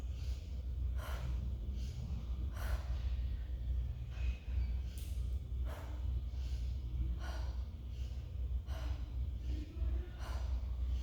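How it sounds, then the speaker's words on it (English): Slow, deep breaths in and out during a yoga breathing exercise, each inhale and exhale rising and fading in a steady rhythm of several rounds over a constant low hum, close and unaccompanied. "Inhale, exhale."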